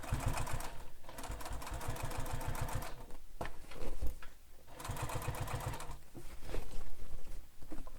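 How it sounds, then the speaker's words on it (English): Close, loud runs of a sewing machine topstitching a beach bag, a rapid mechanical chatter that pauses and restarts several times. "you use your favorite stitch length for top stitching"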